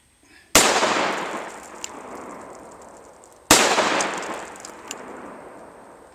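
Two loud, close gunshots from a Taurus Judge revolver fired into plywood and 2x4s, each a sharp blast followed by a long decaying echo, spaced about three seconds apart.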